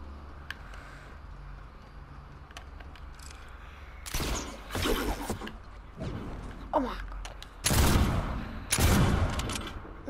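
Gunfire from a Fortnite trick-shot map: bursts of shots crack out from about four seconds on, in loud clusters with short gaps between them, over steady low game background noise.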